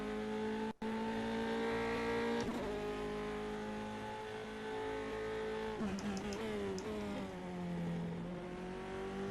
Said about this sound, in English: Bit of a rattle on the overrun, that sounds really nice.